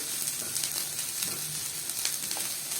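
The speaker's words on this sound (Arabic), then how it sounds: "سامعين صوت الشكشكه دي؟" Freekeh sizzles steadily while being sautéed in a pan for a meat freekeh casserole, a continuous close frying hiss with small crackles throughout and no talking.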